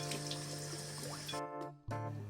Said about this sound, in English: with the bok choy, I'm just going to wash off the dirt.